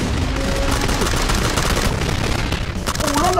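Rapid gunfire crackles in the shooter game PUBG, dense bursts of shots over loud continuous game noise, with faint voices briefly audible underneath.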